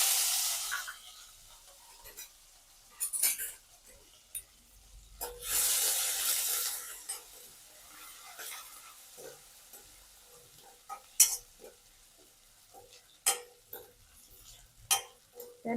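Spices and aromatics sizzle in hot oil during tempering for a Gujarati drumstick kadhi: asafoetida, curry leaves, dried chilies and ginger-garlic-chili paste. A loud hiss flares at the start and again midway, followed by quieter crackles and scattered stirring knocks.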